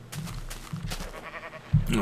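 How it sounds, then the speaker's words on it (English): Sheep bleating in the Minecraft video game, short game-style bleats scattered across a couple of seconds, the last one loudest, heard under a person's talk. "sheep."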